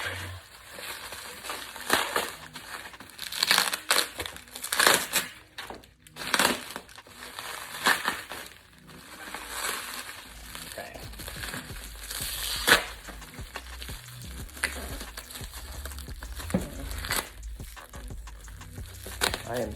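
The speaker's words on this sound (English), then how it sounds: "I'm gonna go ahead and unwrap them." Plastic packaging being cut and unwrapped from aftermarket LED tail lamps for a 2005–2012 Porsche 997 Carrera S: close, irregular crinkling and crumpling, with a voice speaking now and then.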